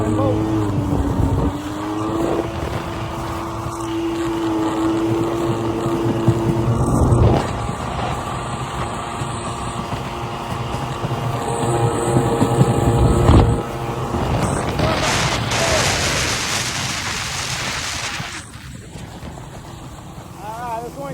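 A two-stroke jet ski engine drones and revs steadily up close on choppy water, with wind buffeting the microphone and a voice talking over it.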